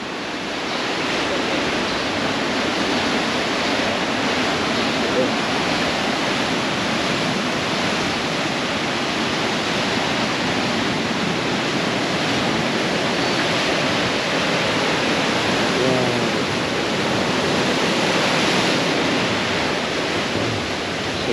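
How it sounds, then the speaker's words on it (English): Strong ocean swell and waves breaking on the Banton Island shore, a dense, continuous roar of surf that stays loud and close throughout with no talking. "the swell and the waves got stronger today"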